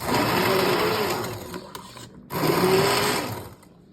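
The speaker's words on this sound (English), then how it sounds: "we're gonna use the emergent blender and blend this up" A loud motorized whir of an immersion blender blending salsa, running in two bursts, with a brief pause between them and a fading tail at the end.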